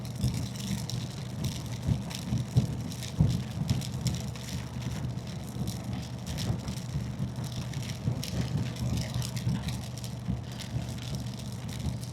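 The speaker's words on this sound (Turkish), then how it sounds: "Bayağı yağıyor ha." Steady heavy rain pours down in a dense, continuous hiss, recorded while riding a motorcycle, with a low rumble of traffic or an engine underneath.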